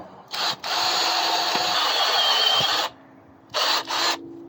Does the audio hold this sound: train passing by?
no